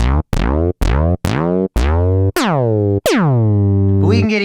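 A synth on Arturia Pigments fires a series of punchy notes, each with a sharp downward pitch sweep from the envelope. The sweeps grow longer toward the end, and a short voiced bit follows.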